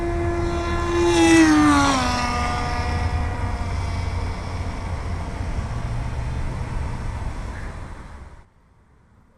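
A SkyWalker FPV model airplane flies past, its electric propeller whine rising then sweeping down in pitch as it passes close, then holding a steady drone before cutting off abruptly near the end.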